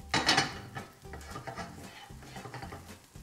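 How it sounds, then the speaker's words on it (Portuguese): Crumbled broa cornbread is sautéed in olive oil in a pan, with brisk stirring and scraping of a utensil against the pan over a light sizzle, with no talking. "Então, saltei a broa bem salteadinha"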